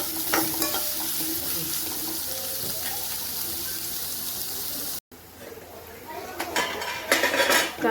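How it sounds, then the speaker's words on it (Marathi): Onions frying in a pan with cumin and curry leaves for a masala egg curry, a steady close sizzle with stirring scrapes. Brief pot clatter and a louder burst of crackling toward the end after a short break. "कांदा छान फ्राय झालेला आहे।"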